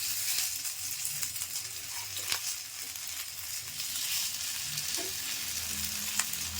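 Adai batter poured onto a hot oiled pan in small rounds, sizzling and frying steadily throughout with a few faint clinks, close and fairly loud.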